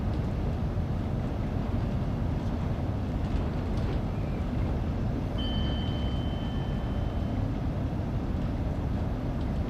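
A tonal AWS warning bing sounds once, fairly clear, over the steady rumble of a train in the Train Sim World 2 railway simulator.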